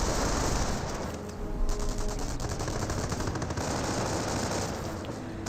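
Sustained automatic gunfire from Engineers and MP40-armed Volksgrenadiers in Company of Heroes, dense overlapping bursts of rattling fire that run continuously and loud, with no talk.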